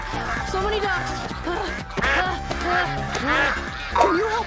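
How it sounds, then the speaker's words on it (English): Cartoon ducks quacking in an animated episode, a busy run of honking calls layered over music and effects throughout, with voices mixed in. "So many ducks."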